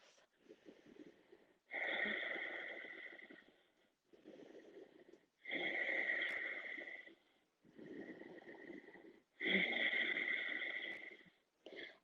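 Three long yoga breaths during a warrior-pose sequence, each a drawn-out, breathy inhale-exhale cycle, close and audible, separated by short quiet gaps.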